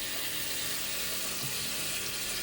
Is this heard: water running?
yes